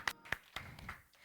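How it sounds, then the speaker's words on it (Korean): A few scattered hand claps from a children's Sunday worship congregation, sharp separate slaps spaced unevenly over a second or so, close and fairly quiet. "우리 주님 앞에 영광의 박수 올려드립니다."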